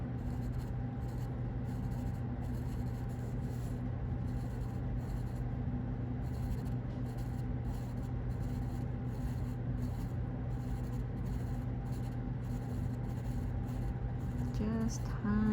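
Pastel pencil, a colour charcoal pencil, drawn across paper makes a steady, close, soft scratching and rubbing that runs on continuously under a faint background hum.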